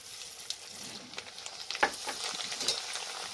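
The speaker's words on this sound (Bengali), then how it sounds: "চলো এবার আমি অল্প অল্প সাবু দিয়ে ভেজে নেব।" Large sago pearls frying in hot oil give off a steady, close sizzling hiss, with scattered small crackles and pops that grow a little busier toward the end.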